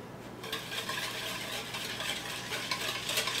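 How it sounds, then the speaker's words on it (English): Sugar being stirred into a croissant bread pudding mixture in a bowl, a steady soft scraping and swishing that runs throughout at low level with no talk. "I'm going to stir that until it's um, mixed good"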